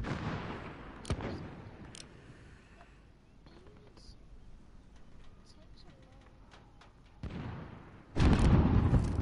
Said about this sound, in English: It's a big boom.